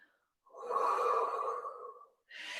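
A single slow, audible breath drawn in during a Pilates lift in a morning stretch-and-strengthen workout, soft and close, followed by the start of another breath.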